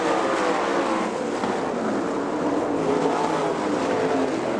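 Sprint race cars roar around a Michigan speedway in a steady, loud, continuous drone of engines with no gaps, heard alone without voices.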